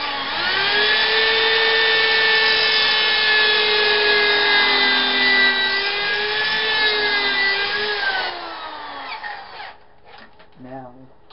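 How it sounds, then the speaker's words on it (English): A steady, high-pitched drill whine runs for about eight seconds as a jobber drill bores through a pocket hole jig, then cuts off, followed by brief quieter clatter and handling noise. "we should be okay to go ahead and drill this."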